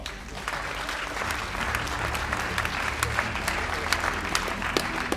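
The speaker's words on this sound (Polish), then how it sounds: "za to poproszę o wielkie, wielkie brawa" Steady, dense applause from a large crowd at a business awards gala, sustained throughout with a few sharper individual claps standing out.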